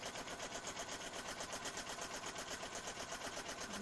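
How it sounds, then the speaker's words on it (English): A sewing machine runs a straight stitch through paper in a steady, rapid mechanical chatter of even pulses, continuous and fairly quiet throughout. "I quite like the sound of a sewing machine"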